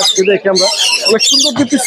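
Lovebirds at the Mirpur bird market give rapid, close squawking chirps in dense overlapping bursts, a busy chorus with bits of talk near them.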